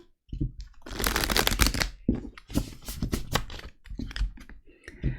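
Oracle cards being shuffled by hand: dense, papery riffling bursts and quick flicks, close and fairly loud, in short irregular runs with brief pauses between them.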